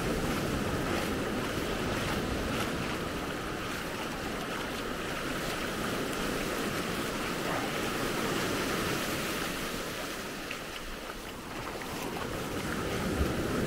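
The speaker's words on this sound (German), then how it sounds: "Ein paar höhere Wellen kommen jetzt auch ab und zu mal." Ocean waves roll and wash onto the beach at Maspalomas, Gran Canaria, a continuous loud surf roar mixed with wind buffeting the microphone, swelling and easing as occasional larger waves come in.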